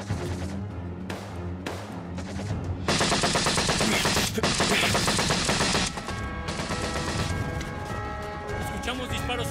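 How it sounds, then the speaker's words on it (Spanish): Dense, rapid gunfire from a film battle scene, continuous bursts of shots like machine-gun fire, loud and close, with shouting voices mixed in and a brief lull before the firing resumes. "Escuchamos disparos sobre el monte."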